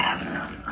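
A dog growls in a low, continuous rumble close by, brief and steady with no speech over it.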